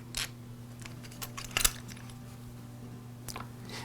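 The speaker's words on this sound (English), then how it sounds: "I'll insert the screws through the bracket, then the brackets and screws through the air cleaner base" Small metal screws clink and rattle as they are fitted through a trimmer bracket and plastic air cleaner base. A few scattered light ticks are heard close up, with one brighter cluster of metallic clicks in the middle, over a low steady hum.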